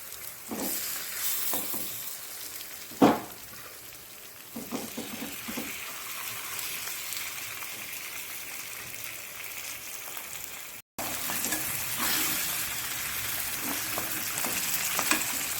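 Masala-coated fish frying in a hot pan, a steady close sizzle with a few sharp pops and clatters, running throughout with no talk.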